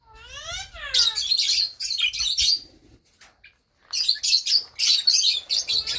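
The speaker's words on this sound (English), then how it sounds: "Here you see them. That's the lovebirds." Lovebirds in a parrot aviary chirping in rapid bright bursts, a rising-and-falling call opening the run before a short quiet gap, then another dense volley of close, loud tweets.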